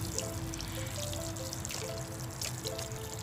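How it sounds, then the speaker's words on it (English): Water poured onto soil in a lasagna bulb container planted for spring, a soft steady trickle and splash close by, faint and continuous with a low hum beneath. "The last thing to do now is to water these guys in, and you want to water them in just enough to moisten the soil."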